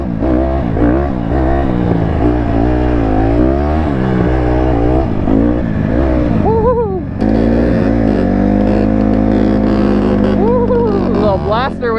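A two-stroke Banshee race quad revs off-road on trails, its engine rising and falling in repeated loud, close throttle blips, with voices mixed in.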